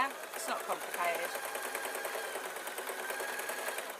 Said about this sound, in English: I'm going to lower my foot and I'm going to sew to the next pin.